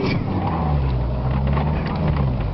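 A vehicle engine runs steadily just after starting, a loud, rough idle with a deep rumble that holds nearly constant the whole time. No other sounds break through.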